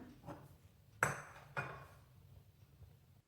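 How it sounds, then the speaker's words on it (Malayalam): Metal uruli cooking pot set down on a stove in a home kitchen, two sharp clanks about half a second apart, close and crisp in a quiet room. "ഇനി നമുക്ക് ഒരു ഉരുളി അടുപ്പത്ത് വെക്കാം"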